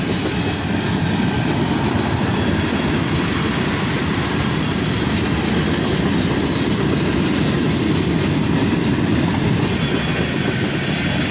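A freight train led by an SD70MAC locomotive rolls past near Needmore Yard, a loud continuous roar of wheels and rail clatter with faint squeals, unbroken throughout and no talking.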